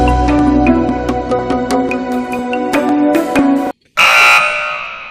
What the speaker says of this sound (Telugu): first buzzer నొక్కింది